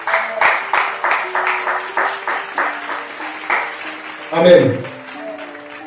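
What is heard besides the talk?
congregation applauding in church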